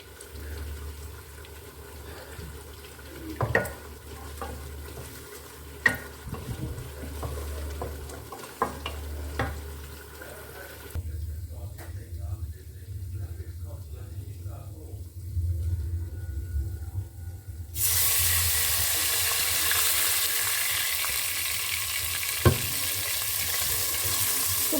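Onions frying in a pan with a chicken cube added, a continuous close sizzle with occasional stirring knocks and scrapes, growing into a brighter, hissier fry near the end.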